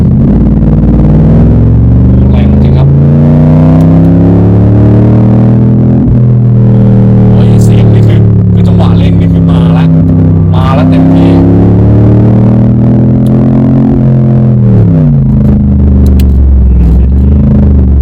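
A McLaren SLR hypercar engine drones loudly and steadily while driving on a smooth road in Laos, its low harmonic tones rising and falling through gear changes, with someone talking over it throughout.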